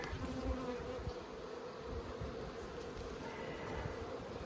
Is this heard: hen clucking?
no